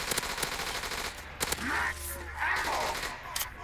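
Automatic gunfire from a Black Ops 3 custom zombies match, with several loud bursts and shots spread across the clip and game noises and effects in between.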